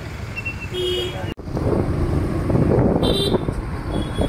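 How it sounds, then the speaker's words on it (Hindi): Road traffic hums along a busy street, heard from a moving bike with wind buffeting the microphone, a steady rumble of passing engines and a brief sharp cutout, while a person talks over it. "ट्रैफिक भी है बहुत ज्यादा।"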